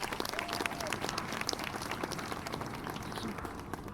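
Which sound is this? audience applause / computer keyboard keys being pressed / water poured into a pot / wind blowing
audience applause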